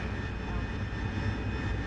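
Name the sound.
Spitfire aircraft engine in flight sim video game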